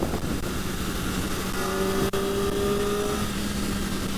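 A 2023 Kawasaki ZX-4RR motorcycle cruising on the highway, with a steady, loud roar of engine and wind rushing past, a sustained engine tone holding through the middle, and no talking.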